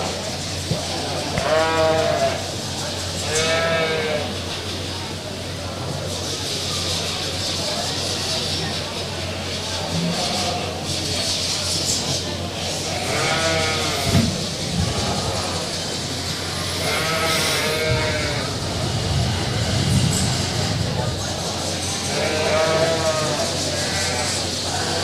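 Sheep bleat repeatedly in the show ring at a San Antonio livestock show judging commercial ewes and registered breeding sheep, loud wavering cries over a steady arena hum, with voices talking throughout.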